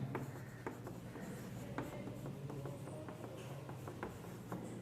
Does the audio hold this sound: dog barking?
no